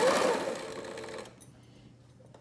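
Sewing machine stitching fabric for a face mask, a fast close whirring run that stops abruptly partway through, leaving near silence.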